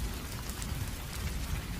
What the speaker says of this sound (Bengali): মুহূর্তেই টিনের ছাউনিতে ঝমঝম করে বৃষ্টি পড়তে শুরু করলো, একেবারে মুষলধারে